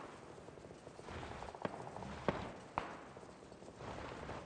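Gunfire in PUBG: Battlegrounds: three sharp, distant shots spaced about half a second apart ring out faintly over a low, rustling background.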